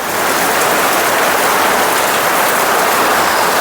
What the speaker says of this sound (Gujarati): જોતામાં તો વરસાદ ચાલુ પણ થઈ ગયો